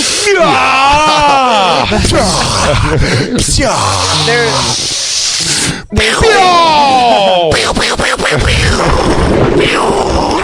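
A voice imitates heavy breathing with loud, rasping, drawn-out gasps and groaning exhales, repeated several times close up with little pause.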